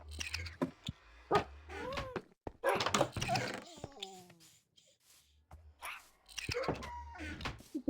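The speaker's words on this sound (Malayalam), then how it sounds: "എൻ്റെ പട്ടികള്" Pet dogs in the Minecraft video game whimpering, a few short rising and falling whines between quiet gaps, with soft game thuds around them.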